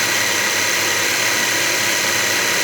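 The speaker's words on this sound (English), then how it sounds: "So we're going to turn this on. It's going to take 2 seconds to start grinding." Baratza Sette 270Wi coffee grinder running loud and close, a steady dense mechanical whir and grinding buzz that holds unbroken throughout, no voices.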